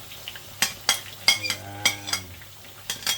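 Peanuts and garlic stirred in a pan, with several sharp utensil scrapes and clinks against the metal over a low, steady sizzle, close by with no talking.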